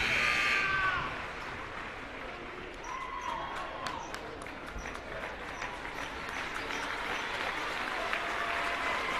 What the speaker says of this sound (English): both sides getting a round of applause